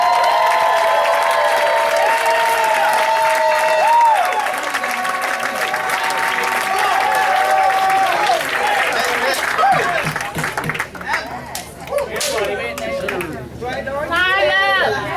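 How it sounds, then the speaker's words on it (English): Conference audience at a business mastermind event applauding, a dense wash of clapping with some cheering and crowd chatter that thins out toward the end while voices carry over it. "So give these guys one more round of applause."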